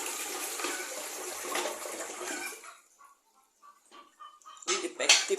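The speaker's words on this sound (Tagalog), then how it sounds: "at ipla-flush." A toilet in a bathroom flushes with a rushing surge of water for a few seconds, then drains quietly, followed by a few clattering sounds and bits of talk.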